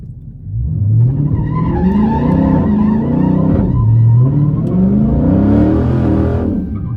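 Dodge Challenger Scat Pack 1320 on Mickey Thompson tires launching down a drag strip, a loud close engine roar climbing through rising gear sweeps with a brief dip at a shift, running steadily for about seven seconds with no talk.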